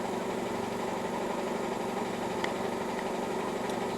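An air compressor runs steadily in a workshop, a constant mid-pitched mechanical drone with a faint rattle, moderately quiet and unbroken throughout.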